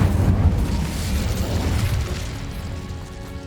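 A fire spell erupts in Hogwarts Legacy as Incendio is cast in combat, giving a loud, sustained burst of roaring flame with heavy low rumble across the whole moment and no voices over it.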